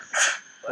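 A single short, breathy sneeze bursts out during a card review of Kobolds & Catacombs, close and fairly loud, followed by a voice starting to speak.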